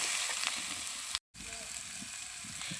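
Jackfruit and potato pieces frying in a pan give a steady, close sizzle, broken by one brief gap of silence before the crackle resumes.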